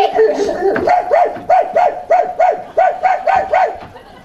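A man imitates a dog barking, a rapid series of about a dozen rhythmic, throaty woofs evenly spaced, loud and close, following a short stretch of speech.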